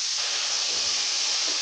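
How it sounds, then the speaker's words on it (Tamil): Steady bubbling hiss of a covered pan of vegetables boiling in water on the stove, continuous and fairly soft with no voices. "நல்லா வந்து தண்ணி ஊற்றி மூடி வச்சுருங்க. நல்லா கொதிக்கட்டும்"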